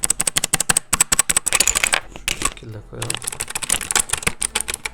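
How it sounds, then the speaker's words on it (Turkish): Dense, fast clatter comes from the blue switches of a Gamepower Calypso waterproof optical mechanical keyboard being typed on close to the mic. There is a short pause where someone speaks briefly, then the steady clicking resumes. "Bu şekilde bir klavye tuş sesi bulunuyor arkadaşlar."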